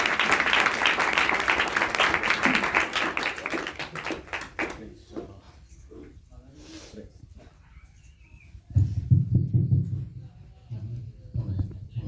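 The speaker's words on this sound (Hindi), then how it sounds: "पास्टर जी का हम लोग ताली बजाकर स्वागत करें।" A congregation at a Christmas worship service claps loudly to welcome the pastor, dense applause that fades out after about five seconds. A quieter stretch follows, then a low hum comes in.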